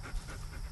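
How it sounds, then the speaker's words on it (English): Inuit sled dog panting steadily in short, quick breaths at close range, a continuous low rhythmic huffing with no voices present. "Otak and China are also Inuit sled dog"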